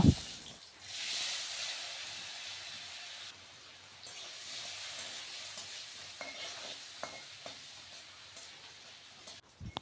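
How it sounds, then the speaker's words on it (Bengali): Paneer cubes frying in oil with turmeric give a steady, close sizzle for the whole stretch, with a few stirring scrapes and clinks partway through. "পনির ভাজার জন্য আমি প্রথমে আরেকটু তেল দিয়ে দিয়েছি হলুদ দিয়ে এবার পনিরটি ভেজে নেব।"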